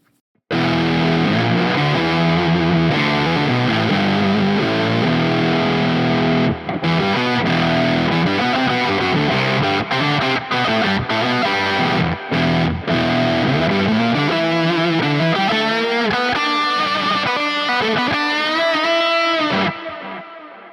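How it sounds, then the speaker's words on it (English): Electric guitar played through a Neural DSP Nano Cortex on a lead octaver preset, producing a loud, continuous distorted lead line with a doubled octave tone, sustained for about twenty seconds before cutting off. "Let's do lead 1 FX octaver."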